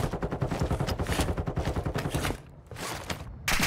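Rapid automatic gunfire in Warzone's Haunting mode, a dense run of bursts for over two seconds, then a short pause before scattered shots and a fresh volley close by.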